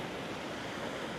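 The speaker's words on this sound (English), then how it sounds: "obviously you can hear the waves in the background" On the beach at Marbella, Spain, early-morning waves give off a steady roaring wash of surf, mixed with light wind noise, with no speech heard.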